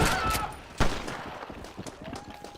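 Gunfire in the Western video game Red Dead Redemption, a run of sharp shots with one especially loud crack near the start of the second, then scattered quieter pops, with faint voices underneath.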